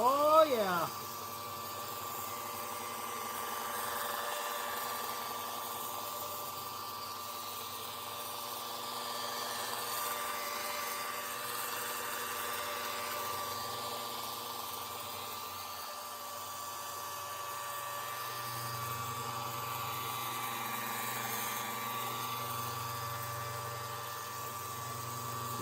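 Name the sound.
power polisher polishing a Buick hood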